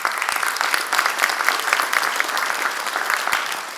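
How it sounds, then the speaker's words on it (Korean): Warm, steady applause from a large audience at a Democratic Party central committee meeting, even continuous clapping at moderate volume with no talk over it. "뜨거운 박수 한번 부탁합니다."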